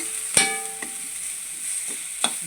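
Chana dal and potatoes dry-roasting in a pan, a faint soft sizzle with a few light scrapes and clicks of stirring, close and quiet.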